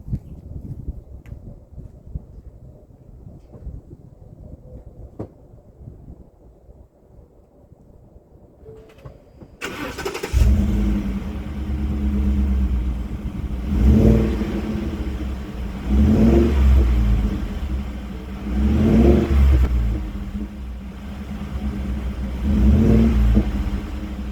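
Heard from inside the cab, after about ten seconds of near quiet, a 2015 Ford F-150 pickup with a Flowmaster Super 50 Series muffler starts up and rumbles steadily, swelling with several revving surges as it gets moving.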